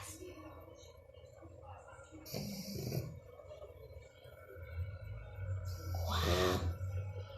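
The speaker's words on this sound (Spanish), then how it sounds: "¡Qué manera de roncar!" A four-month-old French bulldog puppy snores in loud, rough rasping bursts, with a low rumbling drone between breaths and a big snort near the end.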